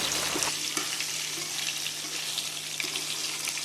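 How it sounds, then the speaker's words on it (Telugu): Leg pieces of meat frying in oil in a pan for biryani, giving a steady close sizzle with faint clatters, with no talk over it. "ఇది బాగా ఆయిల్లో అయితే బాగా ఇది ఫ్రై కావాలి"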